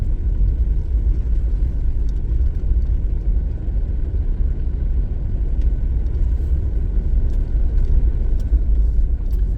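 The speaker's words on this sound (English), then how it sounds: "I hope that fan wasn't too loud for the video." A fan runs steadily inside a vehicle during an elk hunt in Washington, a loud continuous low rumble and whoosh with no breaks and faint ticks scattered above it.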